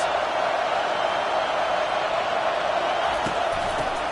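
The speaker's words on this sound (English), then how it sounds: "this crowd is coming to help the defense" Football stadium crowd at an LSU game roaring steadily as the home fans get loud for a late defensive stand on fourth down, a dense, continuous wall of massed noise with no breaks.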